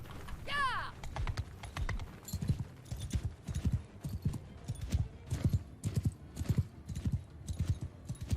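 Cavalry horses galloping in the Bannerlord video game, a rapid rhythmic run of hoofbeats opening with a brief whinny, while a voice talks over the action.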